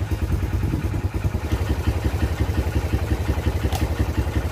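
Motorcycle engine running at a steady idle with a fast, even low chugging pulse and some mechanical clatter, loud and close, with no talking.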